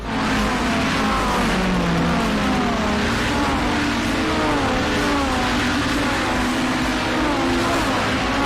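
Race cars circling a track on a grid led by Lee Partridge, a loud continuous engine roar with many overlapping motors rising and falling in pitch as the pack streams past.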